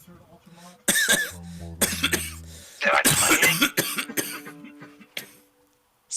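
Several sharp, loud coughs break up a podcast interview conversation, with people talking between the bursts.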